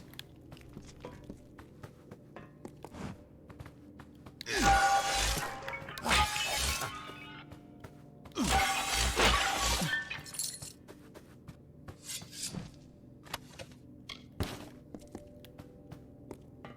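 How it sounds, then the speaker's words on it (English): Pots get smashed in the Kingdoms of Amalur video game: two bursts of loud shattering ceramic around the middle, each with rapid clattering fragments, surrounded by quieter footsteps and small clicks. "I just like smashing pots."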